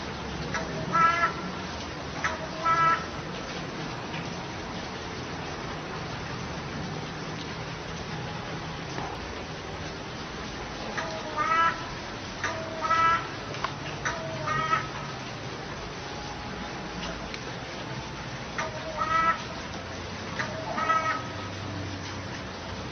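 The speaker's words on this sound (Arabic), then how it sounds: "رابعا الغراب. من الطيور التي لا نحب سماع صوتها" Crow cawing, a series of short harsh calls in scattered bursts of two or three over a soft, steady background hiss, moderately distant and with no speech.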